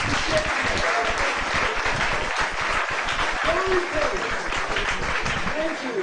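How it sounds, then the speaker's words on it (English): Students applaud at a school reunion gathering, dense sustained clapping from a crowd, fairly loud and continuous, with a few voices calling out over it. "And I want my students to clap for them."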